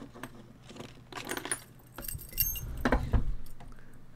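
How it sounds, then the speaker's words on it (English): Keys jangle and clink in bursts as someone rummages through them, close and crisp, with no talking over the metallic rattles. "I'm just looking for my keys."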